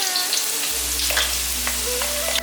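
Shiitake mushrooms fry in hot oil in a wok, a steady close sizzle with soft crackling throughout and a low hum underneath, heard alone without voices.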